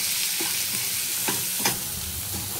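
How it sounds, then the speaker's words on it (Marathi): Onions frying with salt in a pan, a steady close sizzle broken by a few scraping strokes of a spoon, with nobody talking. "1 चमचा जो मीठ घेतला आहे ते मीठ आपण त्याच्यामध्ये ऍड करणार आहोत आणि कांदा जरा थोडासा लालसर होऊन द्यायचा आहे।"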